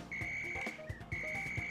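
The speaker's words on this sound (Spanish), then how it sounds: "es como un silbato" A high, steady whistle-like tone from Mario Kart 8 sounds in two long sustained stretches, over game music and soft thumping beats.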